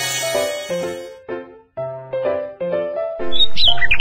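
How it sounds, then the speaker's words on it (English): A small bird chirps in a bright, clear series of repeated tweets with short pauses between phrases, close and fairly loud, with no talking over it. "Bird."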